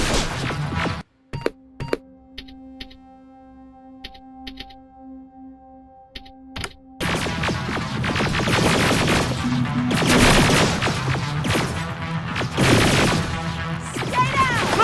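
Heavy gunfire in Terminator: Resistance erupts after a few isolated sharp shots, turning into a loud, dense, continuous barrage of weapon fire and crashes that fills the rest of the scene.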